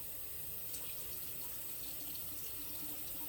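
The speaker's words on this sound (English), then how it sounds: "So here we go, 3/4 cup of cold water." Cold water running steadily from a kitchen tap into a measuring cup, a constant close hiss of flow with no talking over it.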